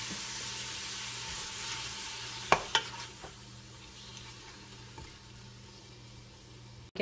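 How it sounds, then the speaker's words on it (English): Beef tripe sizzles and browns in a pot seasoned with salt and pepper, a soft steady frying hiss broken by a few sharp clinks of stirring and a late clatter. "We're gonna try to brown it a little bit."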